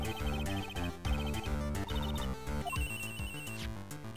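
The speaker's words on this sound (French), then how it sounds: "Deuxième coup de téléphone" A phone rings in Phoenix Wright: Ace Attorney Trials and Tribulations as a bright, melodic electronic ringtone over the game's busy background music, with repeated chiming phrases and a sustained high tone near the end.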